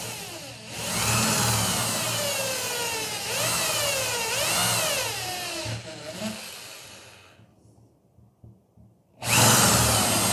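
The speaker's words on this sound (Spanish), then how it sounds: "Utilizaré una barrena de 3/8 de pulgada para construir" A power drill with a 3/8-inch bit bores a hole while a Yagi TV antenna is being built. Its loud, close whining motor rises and falls in pitch, cuts out briefly, then starts again near the end.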